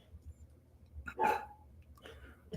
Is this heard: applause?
no